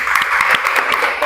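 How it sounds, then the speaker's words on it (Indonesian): A short burst of applause from a classroom group, dense clapping filling the moment, fairly loud and close. "tepuk tangan buat kelompok 3."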